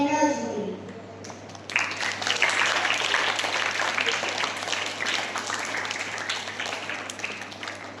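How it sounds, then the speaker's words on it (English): Crowd applause at a school science club event for the energy team, a steady dense wash of clapping that swells after a quieter start and holds for several seconds. "let's give a big clap to the energy team"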